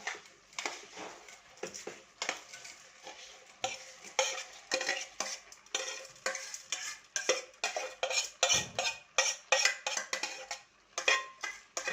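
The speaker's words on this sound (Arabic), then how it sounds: "ونقلب كده تقليبه محترمه" Rice being stirred into tomato sauce in a metal pot, a steady run of scraping, clinking spoon strokes with soft wet squelches, fairly close and with no talking.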